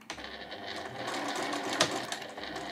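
A sewing machine runs steadily along a stitching line on fabric for a pouch, a close, continuous mechanical whir lasting a few seconds without any talking.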